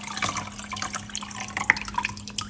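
Tamarind juice poured into a spicy West African rice drink, a soft steady liquid trickle with small drips and splashes, quiet and continuous.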